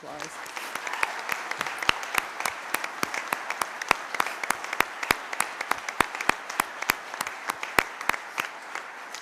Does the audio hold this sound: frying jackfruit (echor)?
no